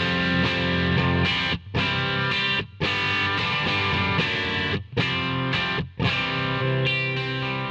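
Distorted electric guitar played through a Victory Deputy amp, a British Marshall-style head, into a standard Boss 4x12 cabinet, loud dense chords and riffs with several brief stops between phrases, no talking.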